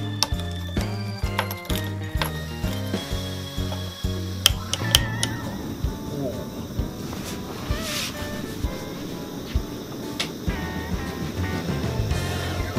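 SOTO ST-330 Fusion camping stove in an indoor setting with a ventilation fan running, being lit with a series of sharp clicks and rattles before a steady rushing burner roar takes over and continues close to the microphone.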